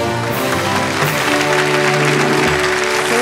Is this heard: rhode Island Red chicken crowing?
no